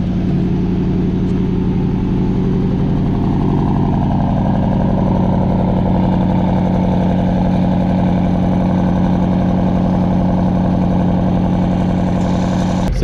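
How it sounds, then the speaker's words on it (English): Range Rover SVR engine idling loudly at close range, a steady deep rumble with a strong low hum that holds even for the whole stretch, no voices over it. "you'll hear the engine will probably start to lower the revs"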